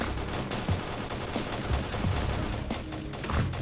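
Automatic weapons chatter nearly nonstop in Halo Custom Edition, a dense fusillade of overlapping shots with a few heavier thumps standing out, loud and close.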